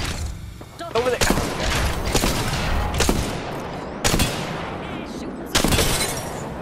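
Bursts of gunfire in a video game battle hit in loud rapid volleys, with a few sharp separate cracks spread across the stretch over busy in-game noise, and voices talk throughout.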